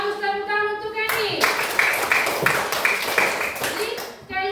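A classroom of children claps together for a classmate, a dense burst of hand claps lasting a few seconds with faint chatter behind, set between stretches of an adult voice.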